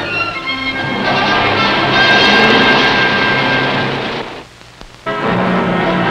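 An L-23 Seminole twin-engine army airplane flying, a loud steady engine drone with a sustained tone that dips briefly near the end and then returns.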